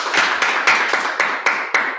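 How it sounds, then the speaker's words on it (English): Toastmasters club members applaud their Vice President Education with a quick, steady run of close claps, roughly four a second, bright and even with no voices over them. "Let's give him a round of applause."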